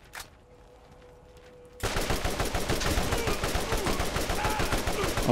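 Atlas gun firing in the Borderlands video game: after a short quiet stretch, a loud sustained burst of rapid automatic gunfire begins and runs steadily to the end.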